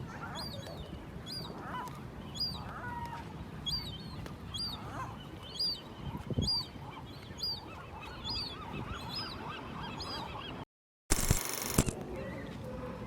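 Seagulls in Santa Cruz give a run of repeated, fairly loud calls in a steady rhythm over outdoor background noise, followed near the end by a brief dropout and then a loud burst.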